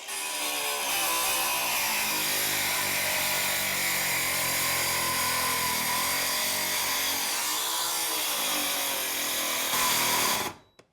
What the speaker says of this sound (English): Let's try ripping it with our circular saw into a thin strip and see if it comes out easier that way.